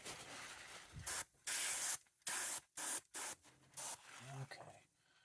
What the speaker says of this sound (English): so we will use the airbrush for that.